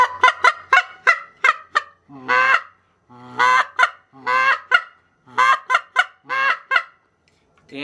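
A goose call blown in rapid, honking bursts, some short clucks and some longer drawn honks, loud and close, mimicking a flock of geese.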